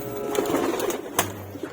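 A racing pigeon coos softly in a loft, a few low throaty coos close by, with light fluttering and rustling around it.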